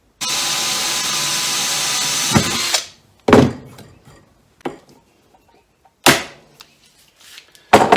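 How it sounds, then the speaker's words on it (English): A hand tool sets rivets to fix a support for the main arm of a homemade fishing seat box, a long grinding burst followed by several sharp, separate clicks and snaps, close by and loud, with no talking. "put a couple of rivets in there, and that'll hold this support for the main arm in place"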